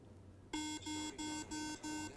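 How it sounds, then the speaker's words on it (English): A guidance device for a blind runner who has strayed off track sounds a loud electronic beep, repeating in a rapid, steady rhythm of about six short pulses, each starting suddenly after a brief quiet lead-in. "Then it beeps like crazy because you're far away from the desert."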